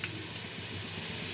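Tempering seeds hit hot oil and sizzle in a short, bright, hissing burst that stays close and even for about a second.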